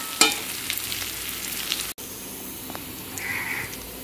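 Potatoes fry in hot oil with a steady broadband sizzle, a few sharp crackles and spatters near the start and a brief gap midway, with no voices.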